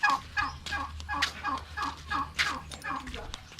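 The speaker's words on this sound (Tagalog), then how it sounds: "Hoy, pabo." Turkey gobbling in rapid repeated bursts, close and fairly loud, with other fowl clucking nearby and occasional voices.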